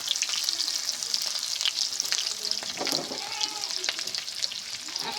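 Chopped onion and green chili fry in oil with cumin in a pan, giving a bright, continuous close sizzle with occasional scraping stir sounds throughout.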